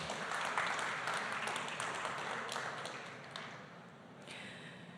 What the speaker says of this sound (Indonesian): Tepuk tangan dulu untuk ibu-ibu semua.